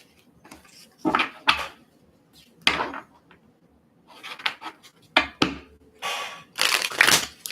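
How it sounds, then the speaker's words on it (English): A tarot card deck is shuffled in quick riffling bursts, crisp papery cracks and flutters coming in uneven clusters with short quiet gaps between them, close and clear. "every time I shuffle, I forgot how easy this deck is to shuffle"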